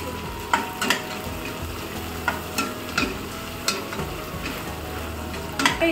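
Whole cumin seeds crackle and sizzle in hot oil in a pan, a steady close frying hiss punctuated by regular sharp scrapes and taps of a stirring spatula, with no talk.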